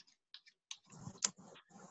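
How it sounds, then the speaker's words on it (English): A deck of playing cards given a Hindu shuffle: quiet, close, irregular papery clicks and riffling flicks, with no talking. "And now I'm just going to give it a normal Hindu shuffle."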